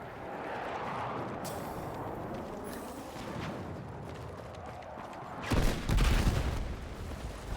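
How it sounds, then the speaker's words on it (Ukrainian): Distant rumbling gunfire and game noise in Battlefield 6 on the Firestorm map, then a fuel truck explodes in a sudden loud burst that rolls on for a couple of seconds. "Бензовоз диви вибухнув."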